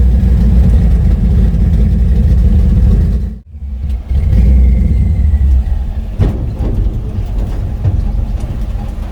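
Chevy C20 truck engine struggling with a blown brake booster hose, loud and close, a rough lumpy rumble that nearly dies out for a moment, then catches and keeps running unevenly.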